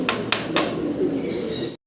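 Pigeons coo in a low, continuous murmur close at hand, with a few brief sharper bursts over the steady burbling, ending abruptly.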